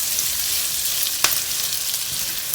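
Onions caramelizing in a pan, a loud, close, even hiss of frying with one brief sharp scrape partway through, no voices.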